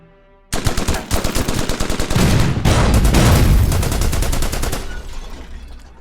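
Rapid automatic gunfire from a Burma Road war video game, loud and close, with dense bursts of machine-gun fire and heavier booming shots rolling together for several seconds before tailing off.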